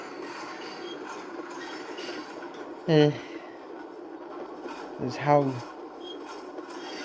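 A train rolling past in the Train and Rail Yard Simulator video game, heard as a low rumbling rasp with two brief squealing bursts of wheel screech, while someone talks over it.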